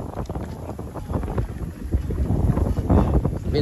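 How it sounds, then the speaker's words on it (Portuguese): Wind blows steadily outdoors in the Lisieux district of Santa Quitéria, a continuous buffeting rush that swells louder toward the end, with no talk over it. "Vento bom, rapaz, maravilha."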